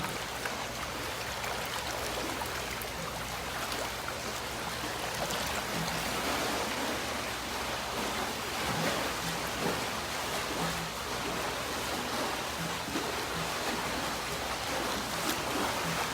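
A swim spa's water current runs at top speed, producing a constant, dense rushing and churning of water like a strong stream, steady and moderately loud for the whole stretch with no voices.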